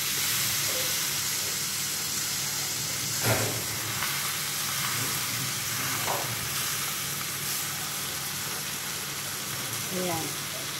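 Water spinach (kangkong) frying in a pan with soy sauce for adobong kangkong, giving a steady close sizzle and hiss throughout with a few brief stirring scrapes.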